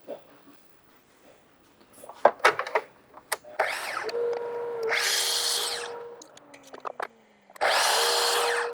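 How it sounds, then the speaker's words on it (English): A miter saw crosscuts wood to length for a workbench build: short taps and clunks, then the motor spins up with a loud whine through the cut, winds down, and a second loud cut follows. "Now we just got to cross cut it to length with the miter saw"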